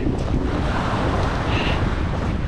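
Ocean surf washes onto a beach lined with turtle nests while a sea breeze buffets the microphone, a steady, close roar of waves and wind with no talking.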